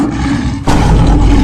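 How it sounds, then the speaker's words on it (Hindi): A lion roars loudly in a heavy, rumbling burst that swells abruptly midway and carries on with dense low-end growl, with no talking over it. "भाई शेर की आवाज है ना ये? हाँ भाई ये शेर की आवाज है यार।"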